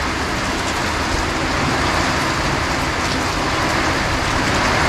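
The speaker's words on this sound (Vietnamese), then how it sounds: "Tự nhiên mưa mất hứng." Sudden heavy rain pours down as a loud, dense, continuous hiss that stays steady throughout, with no talking.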